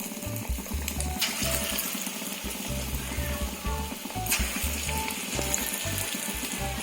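Toor dal bondas deep-fry in a pan of oil, giving a continuous dense bubbling hiss that stays steady and fairly loud throughout with no talking.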